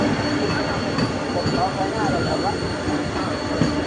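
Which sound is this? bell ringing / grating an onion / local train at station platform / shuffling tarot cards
local train at station platform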